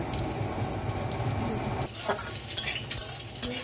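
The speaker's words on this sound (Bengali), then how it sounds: "ঘিয়ের উপরে বাদাম, কাজু বাদাম, কিশমিশ দিয়ে ভেজে নেওয়া হচ্ছে।" A steady oily sizzle of peanuts, cashews and raisins frying in ghee in a kadai, with a few metallic scrapes and clinks of a spoon stirring the pan.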